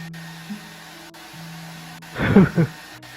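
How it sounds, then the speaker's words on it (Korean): A Samsung hair dryer blowing hot air onto slow-setting cement around a toilet base in winter: a low steady hum, then a louder rushing burst of airflow for about half a second near the end. "성질 급한 삼성 드라이기를 동원해서 더운 바람을 쐬어줍니다."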